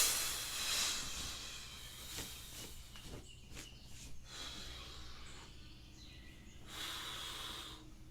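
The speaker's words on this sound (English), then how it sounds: "Breathe out." A person breathes out deeply and slowly during a guided breathing exercise, a soft airy exhale that is fairly close and steady, with a quieter hiss trailing off and room noise between breaths.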